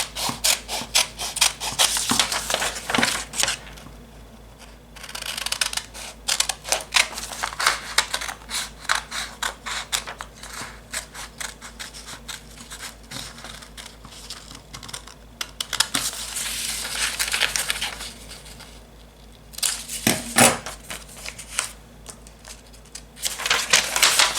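Scissors snip through lycra fabric while a bikini top is cut from a pattern, producing rapid crisp clicking cuts in bursts with short pauses between them, close and fairly loud.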